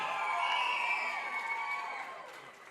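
Crowd cheering for varsity cheerleaders at a homecoming soccer game, a steady wash of shouts and whoops that holds loud, then fades slightly toward the end.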